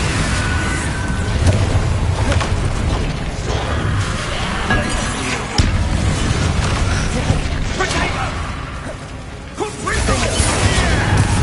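Spell explosions, Confringo and Bombarda, burst in the video game Hogwarts Legacy. The booms, crashes and shattering clinks form a loud, dense, continuous layer of combat noise.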